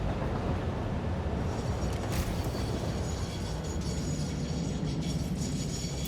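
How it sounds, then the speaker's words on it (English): A train brakes in the video game Satisfactory, producing a loud continuous grinding, screeching mechanical rumble that holds steady throughout with no speech. "it does make that braking sound like a train in real life"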